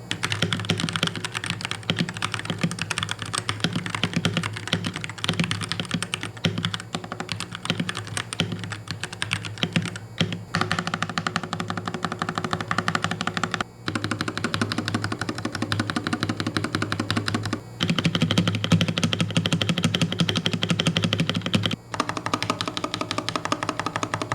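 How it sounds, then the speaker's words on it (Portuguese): Steady, continuous typing on a Kemove Dierya SK61SE mechanical keyboard, dense rapid key clacks close up with a few brief pauses, heard alone without any talking. "antes de eu mostrar o som de digitação desse teclado para vocês"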